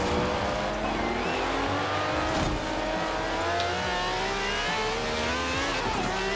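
The engine of a Lykan Hypersport supercar in the racing game Forza Horizon 4 runs at high revs with a loud, steady drone and tonal whine that rises and dips with shifts, close and continuous.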